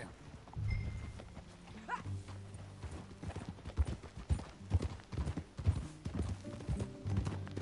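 Hooves of a ridden horse in the Red Dead Redemption 2 video game, a steady close clip-clop rhythm with a short whinny near the start, alone without talk.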